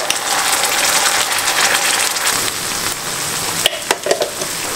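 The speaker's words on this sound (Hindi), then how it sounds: "यहाँ पर जो हमने ये प्योरे बना के तैयार किया था ना इसको भी हम थोड़ा सा भून लेते हैं" Home-made purée roasting in a pan for dhaba-style tawa paneer, a steady dense sizzle and crackle that fades slightly, with a few sharp scraping clicks near the end.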